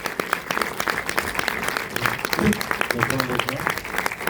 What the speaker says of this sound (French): On peut applaudir bien fort le réalisateur du film